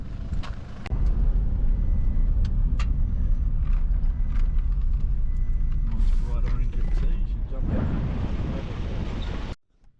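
Car driving along Mount Denison Road in the Australian outback, a loud steady engine and road rumble with wind buffeting the microphone, dipping briefly then cutting off abruptly near the end.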